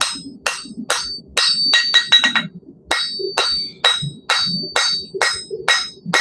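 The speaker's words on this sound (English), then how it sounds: "that's a little too hard to keep going while you're forging" Repeated metallic hammer strikes on a forge anvil in the video game Knightsmith, loud and ringing, in a steady rhythm with a quick flurry of blows midway, over a low ambient background.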